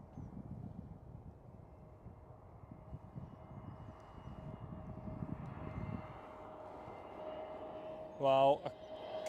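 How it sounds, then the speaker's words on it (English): A heavy airliner departs from the center runway at Schiphol Amsterdam and banks right, giving a broad, steady jet roar at a distance that swells slightly and holds. A brief louder rumble comes near the end, with some wind noise. "Heavy departure on the center runway. Banking towards the right hand side."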